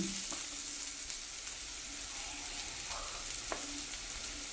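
Wilted onions frying in a pan as spice powders go in, a steady faint sizzle with a few soft stirring taps, close and without talk.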